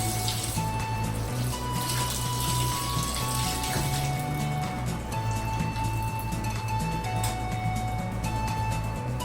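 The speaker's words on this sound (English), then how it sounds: "You can go ahead and give it a quick rinse." Water runs continuously from a tap to rinse a bathtub, a steady broadband splashing hiss close by with no talk over it.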